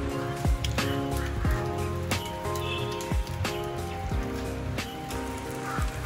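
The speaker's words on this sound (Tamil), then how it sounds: "நல்லா மழை பெய்யுது." Heavy rain falls at a Buddhist monastery in Manali, a steady dense patter with sharp drips and splashes close by, no talk.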